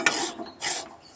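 Black salt being stirred in a hot kadai over a low flame, two short gritty scraping strokes of the spatula against the pan, close and clear with no talking.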